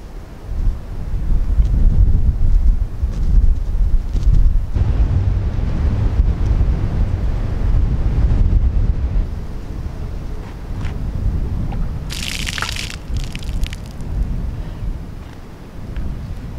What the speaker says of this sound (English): Very windy. And it's very windy and cold